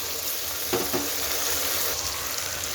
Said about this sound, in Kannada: ಈಗ ಬಟಾಣಿ ಒಂದು ಸ್ವಲ್ಪ ಬಾಡಿಸ್ಕೊಂಡ್ಮೇಲೆ